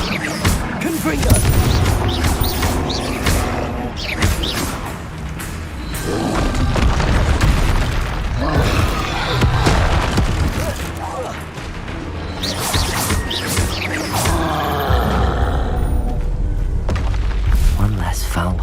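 Explosive Confringo spell blasts in the Hogwarts Legacy video game, loud booming impacts and crashes layered in dense, continuous combat noise with voices over it.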